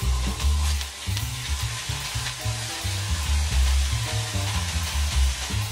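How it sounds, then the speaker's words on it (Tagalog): Banana heart sautéing with pork in a pan, cooked for ginataang puso ng saging with pork hock: a steady, close sizzle with stirring scrapes running throughout and no talking. "Igisa ang puso ng saging."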